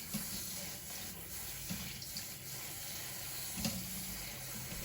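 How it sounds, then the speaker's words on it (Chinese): Cabbage rinsed in a basin under a running tap, a steady hiss of flowing water with a few small splashes and knocks as the leaves are handled; no talking. "用流动水把它清洗一下"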